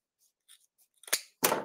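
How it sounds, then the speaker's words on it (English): Scissors snip through folded deco mesh on a cutting mat while making a Halloween skull wreath, a few faint clicks followed by two sharp, close crunching cuts. "then cut from the folded edge to the outside corner."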